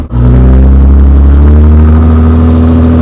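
A Dodge Challenger 392 Scat Pack engine holds a loud, steady, deep rumbling drone as it revs on the brake before launch, close and powerful, with no voices.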